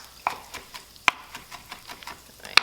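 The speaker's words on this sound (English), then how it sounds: "I'm gonna give them a rough chop" A knife roughly chops vegetables on a board while a creamy mushroom soup is prepared, giving a handful of sharp, uneven taps, with three louder cuts standing out among softer ones.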